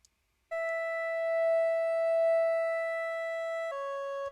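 A thin, plain synth chord tone with no tremolo and no EQ, held steady and alone for about three seconds before shifting to a new chord near the end.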